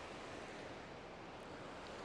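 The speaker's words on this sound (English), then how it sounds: "a little bit of rapids. But that's some nice water." River rapids in Wenatchee National Forest near Naches, Washington rush in a continuous broadband roar, steady and fairly loud with no pauses.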